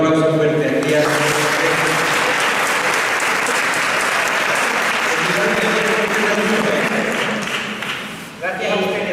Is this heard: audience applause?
yes